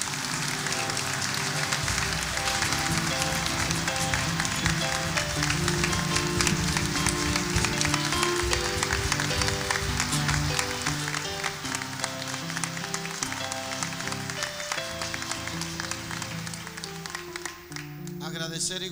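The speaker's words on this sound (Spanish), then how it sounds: "Le damos un fuerte aplauso." A church congregation applauds steadily during a Mass, dense sustained clapping filling the hall for nearly twenty seconds with organ or music tones underneath, fading slightly near the end.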